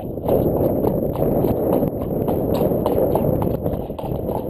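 A young horse in foundation training clip-clops at a steady walk on a hard surface outdoors, the regular hoofbeats loud and close throughout.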